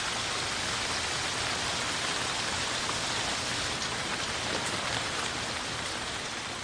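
Torrential rain pours down in a dense, even hiss of countless drops striking surfaces, steady and loud from start to finish with no voices.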